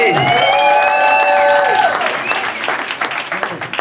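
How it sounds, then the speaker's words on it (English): A crowd at a community forum breaks into loud applause and cheering, with a held vocal whoop at first, then clapping that thins into scattered claps and murmuring. "Round of applause for RJ."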